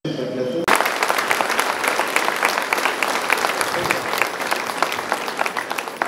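Steady applause from a gathered congregation fills the whole span at a church anniversary celebration at Arogyamatha Church in Khairatabad, Hyderabad, loud and dense after a brief opening, with no clear talk over it.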